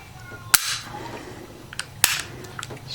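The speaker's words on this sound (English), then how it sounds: "And you can go ahead and it's pump action." Winchester Model 1906 .22 rifle made in 1935, its pump action worked by hand: two sharp metallic clacks about one and a half seconds apart, close and fairly loud, with a few lighter clicks between and no talking.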